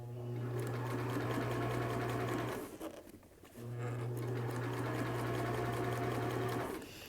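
Sewing machine stitching fabric for a cap, a steady close whirring run that stops briefly in the middle and then resumes, with no voices.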